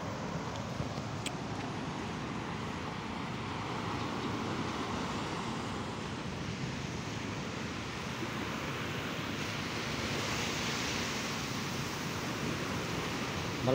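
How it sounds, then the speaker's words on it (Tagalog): Strong sea waves at a city boulevard in Dipolog City, churned up by low-pressure weather, roll in as a continuous broadband surf roar with some wind buffeting the microphone throughout, no one talking. "Malakas ang alon at medyo malabo yung tubig kasi may low pressure eh."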